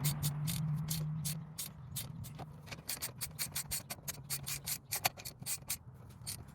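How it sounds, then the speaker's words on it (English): Ratchet tightening brake caliper bolts on a 1995–2001 second-generation Ford Explorer, a run of quick close clicking strokes in an uneven rhythm after a short low hum at the start. "we're gonna go back to our ratchet, make sure we turn it over to tighten it back up."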